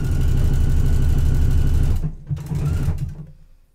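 A home sewing machine with a size 90 ballpoint needle stitches Sherpa knit fabric, a loud steady mechanical whir close by that stops, restarts briefly and then cuts off.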